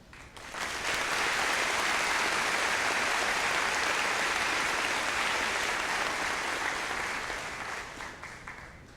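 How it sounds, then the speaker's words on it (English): A high school graduation audience breaks into steady applause for teachers, rising quickly to a full, even roar of clapping and tapering off near the end. "join us in applauding these professionals, our teachers, for their competence and dedication."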